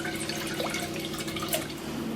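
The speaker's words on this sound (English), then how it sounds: "Get some chicken stock or chicken broth, 1 litre, and pour it straight in." One litre of chicken stock is poured straight into a medium-sized saucepan, making a steady liquid splash and gurgle, close and continuous.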